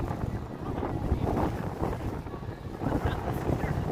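Wind gusting on the Las Vegas Strip at night, a steady loud rumble buffeting the microphone throughout with no clear pauses.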